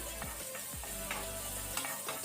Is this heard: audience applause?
no